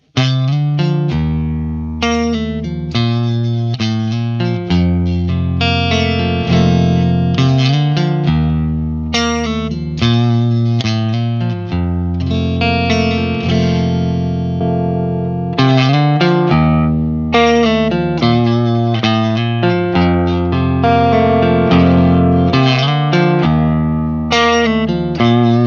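Electric guitar through a Tube Screamer overdrive pedal, playing continuous mid-heavy driven riffs and chords, saturated and thick, loud and sustained throughout with no talking.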